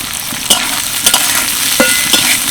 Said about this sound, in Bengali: তিরিশ সেকেন্ড মতো এই সবজিগুলো হালকা ভেজে নেব